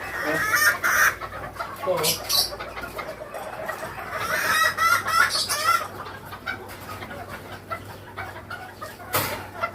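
Island-born gamefowl broodcocks cluck and crow close by in a breeding pen, with repeated raspy calls and bursts of crowing coming in irregular spurts while someone talks at intervals.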